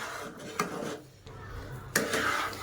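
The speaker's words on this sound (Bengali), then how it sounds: "উপরে একটু আবারও ঘি দিয়ে দিচ্ছি, দিয়ে আবারও আমি এইভাবে নাড়াচাড়া করতে থাকবো।" A spoon scrapes and clinks against a pan while kesari bhat is stirred after ghee is added, with a few sharp metallic knocks amid soft shuffling, close and moderately loud.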